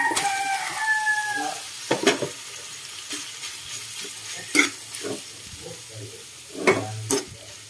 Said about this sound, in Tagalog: Haluin natin ating laman loob